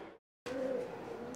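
Soft pigeon coos, a low rounded warble held steadily after a brief silence, close by.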